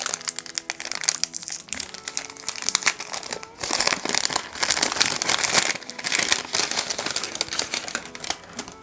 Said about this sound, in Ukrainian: Далі йдуть ось такі маленькі конвертики. Давайте відкриємо цей.